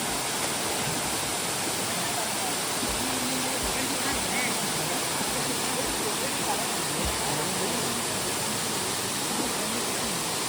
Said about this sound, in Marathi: खूप सुंदर हा धबधबा आहे